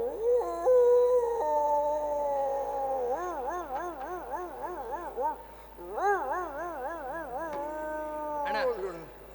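A man vocally imitates a sick dog howling during a comedy performance, with a run of wavering, wailing howls and whimpers that rise and fall in pitch. The howls are loud and close, with short pauses between phrases.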